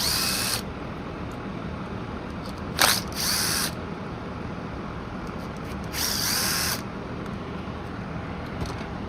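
A vintage Rainbow D2 vacuum with a failing, noisy bearing runs as a steady loud drone, with several short harsher rattling bursts rising over it.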